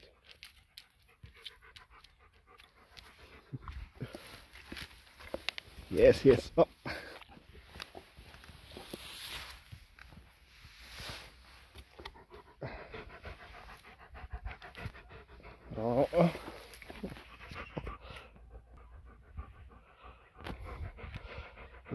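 A dog pants in quick soft bursts close by indoors near stairs, with footsteps and brief words from a person.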